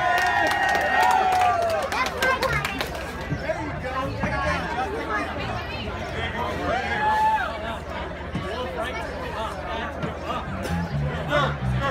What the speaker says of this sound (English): Big round of applause for our winner.